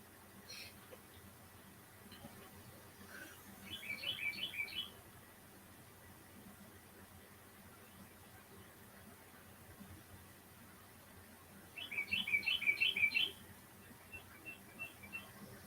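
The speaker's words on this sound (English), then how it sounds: "Just got all the birds out in the woods, in the front yard, the backyard." Birds chirp in two brief rapid bursts out in the woods and yard, a quiet outdoor morning with steady low background hiss between the calls.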